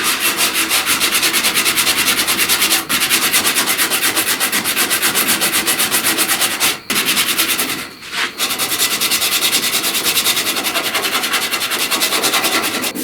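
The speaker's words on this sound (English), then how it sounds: "As I sand this filler down, I'm pushing that body line crease back in" Body filler being hand-sanded with 36-grit paper on a truck cab corner, a loud, close, continuous rasping scrub in rapid back-and-forth strokes with only a few brief pauses, no talking.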